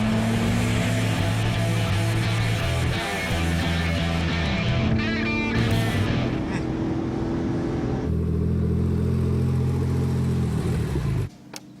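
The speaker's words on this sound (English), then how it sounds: "Come off the brake, leave the gears where they are, and they turn and accelerate hard." A car fitted with a Harrop supercharger making 345 horsepower accelerates hard on a circuit, its engine droning and climbing in pitch through several gears with brief shift breaks, loud and sustained, with talk faintly underneath.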